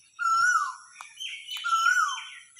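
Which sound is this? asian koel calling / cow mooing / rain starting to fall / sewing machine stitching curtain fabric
asian koel calling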